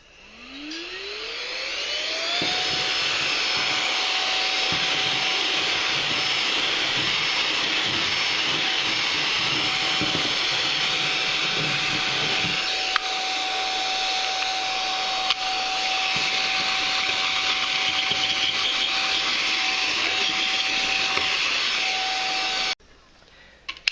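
Baseus A2 Pro portable USB-C rechargeable car vacuum spins up with a rising whine, then runs at a steady high-pitched whir while cleaning a car, with occasional suction rattles, before clicking off.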